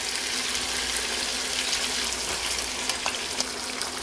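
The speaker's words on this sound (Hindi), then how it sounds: "तो अब मैं इसमें दही शामिल कर दूंगी।" Mutton chops frying in a pan as yogurt is added, giving a loud, steady hiss and sizzle with a few brief spattering pops toward the end, close up and without talk.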